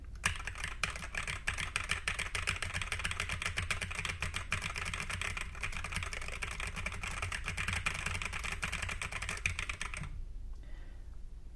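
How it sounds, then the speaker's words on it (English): Steady, rapid typing on a Mode 80 mechanical keyboard resting on a desk, a dense run of close key clacks for about ten seconds before the keystrokes stop and quiet follows. "So I'm just going to go ahead and type."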